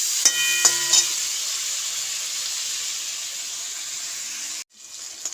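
Shrimp fry in a pan, a steady, close sizzle that runs throughout with a few light clinks of stirring near the start, then briefly cuts out before resuming more quietly.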